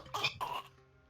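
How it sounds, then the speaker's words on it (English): Two short, rough cough bursts, strained and choked, followed by a brief sharp sound at the end, a strangled cough in the video game Blind Men. "I let out a strangled cough."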